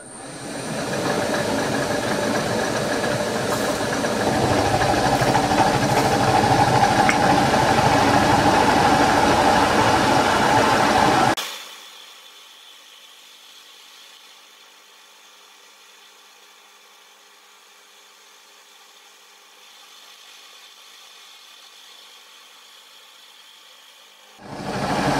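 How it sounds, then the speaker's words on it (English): Loud, steady grinding as a 12mm carbide end mill cuts straight through metal for about eleven seconds, then a sudden drop to a quiet motor hum that continues until a brief rise at the end. "I've got a 12mm carbide end mill. I'm just going to mill straight through on this."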